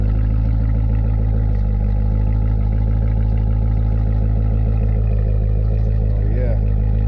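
A Camaro SS with deleted mufflers idles on a cold start, a loud, deep, steady V8 exhaust rumble close by, with people talking over it.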